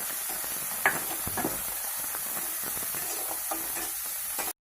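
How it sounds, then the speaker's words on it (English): Chopped onion is stirred into frying masala for baingan bharta, a steady sizzle with intermittent spoon scrapes and clicks, close and even throughout. "finally add chopped onion, and then again give it a mix"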